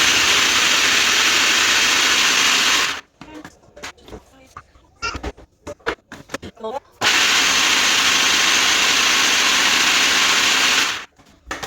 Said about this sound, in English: Put them in a chopper and just